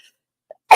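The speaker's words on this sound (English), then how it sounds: "I was so excited I sneezed." A single short, sharp human sneeze bursts out near the end after a near-silent pause, loud and close, preceded by a faint tiny sound.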